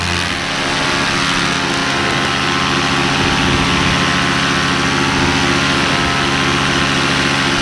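A paramotor engine runs at full power during a slow climb in gusty conditions on a UK race, giving a loud, constant droning buzz with steady harmonic hum and wind rush and no voices.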